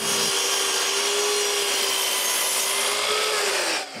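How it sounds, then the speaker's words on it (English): A saw cuts at an angle through a piece of cedar, giving a steady, loud, continuous rasping buzz that runs unbroken for several seconds before stopping abruptly at the end, with no voices. "I cut another piece of cedar with an angle"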